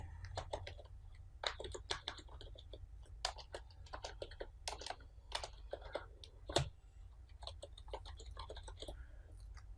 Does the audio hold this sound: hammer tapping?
no